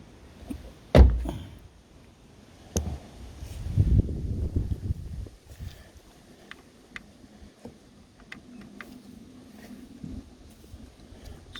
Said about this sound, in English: Let's just pull the door to.